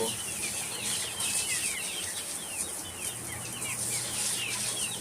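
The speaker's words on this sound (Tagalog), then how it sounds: "Dito naman sa side na to, yung aking mga uh, native chicken" Native chickens cluck and chirp steadily in a farmyard, scattered calls layered over a constant background hiss, with no talk.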